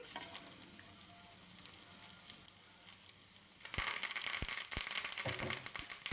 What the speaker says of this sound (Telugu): జీడిపప్పు గోల్డెన్ బ్రౌన్ కలర్ వచ్చే వరకు ఫ్రై చేసుకోవాలి